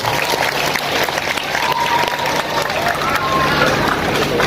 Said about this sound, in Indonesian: tepuk tangan untuk Pak Abdullah.